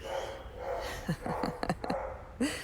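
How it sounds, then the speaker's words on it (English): Several dogs bark and yip in bursts in the background, a handful of sharp barks spread across a few seconds over a steady low hum. "my dogs lose their shit in the background"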